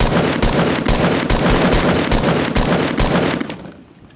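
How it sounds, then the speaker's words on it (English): Sustained automatic gunfire in a first-person shooter match, loud and close with rapid dense bursts that keep going before fading out at the end. "Oh, he's getting shot at from behind."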